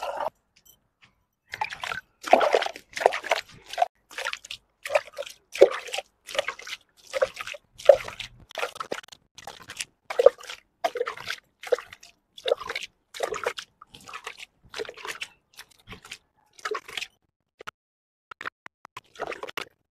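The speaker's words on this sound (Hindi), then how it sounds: "मैं अभी पानी का छिड़काव कर रही हूँ, मैं लगाने लगी हूँ झाड़ू।" Water sprinkled by hand across a mud house floor before sweeping: a long run of quick wet splats and patters in irregular bursts, close and fairly crisp, with no voices.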